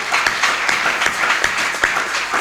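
A church congregation applauds, with dense, rhythmic clapping that holds steady and fills the space from start to finish.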